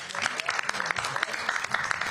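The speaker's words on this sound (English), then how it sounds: "I think I'm going to applaud after" Clapping at a city council annual strategy session, a short burst of scattered hand claps from a small group, close and steady for a couple of seconds with faint voices underneath.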